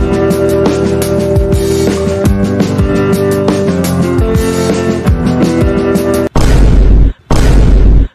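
Loud explosive booms of a thrown grenade-like bomb ball in a Hindi comedy skit, a dense rumbling clatter of blasts followed by two heavy separate bursts near the end.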